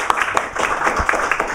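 Brief burst of audience applause at a discussion event, a room full of people clapping in quick, irregular bursts at moderate loudness.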